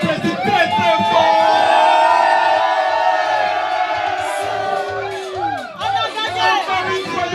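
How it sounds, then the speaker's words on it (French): A large crowd at an evening celebration cheers and shouts for the female president, a loud, sustained roar of voices and whoops that swells early, then dips and rises again. "Mesdames et messieurs, applaudissez-moi la présidente très fort."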